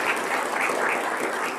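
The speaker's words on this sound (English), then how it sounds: "Let's give Dean Shim, Alvin, and Danielle a huge round of applause for all their work." Audience applause for presenters at a welcome address event, a steady, loud wash of clapping from a crowd that holds evenly throughout with no voices on top.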